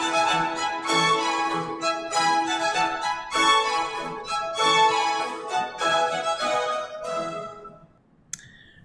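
Second part of the ritornello from Vivaldi's Spring violin concerto, recorded string orchestra playing a bouncy, phrased melody at steady volume, tapering off before a short click at the very end.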